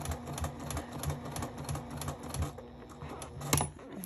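Sewing machine stitching fabric, a rapid even mechanical patter running continuously up close with a brief louder clunk near the end.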